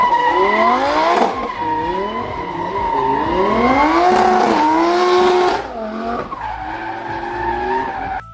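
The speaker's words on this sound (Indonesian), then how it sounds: "ada mobil balap." A race car roars and skids with loud tire squeals, its engine pitch sweeping up and down through repeated revving bursts, close and dominant with no talk over it.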